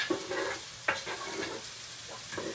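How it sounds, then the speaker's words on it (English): Chopped onions sauteing in a pan on a stovetop for lamb keema aloo matar, a steady close sizzle broken by several scraping stirs of a utensil, with no talking. "this is gonna keep getting sauteed"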